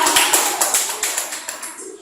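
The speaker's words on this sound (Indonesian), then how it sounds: "Tepuk tangan dulu dong untuk CGP Nusantara." Audience applause for CGP Nusantara at a teachers' session: a dense run of hand claps, loud at first and tapering off over two seconds, with no talk over it.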